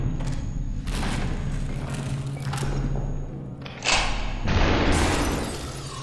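Gunfire in the game SuperHot: a few muffled booms and sharp cracks, including a louder burst near the end, over a steady low background hum.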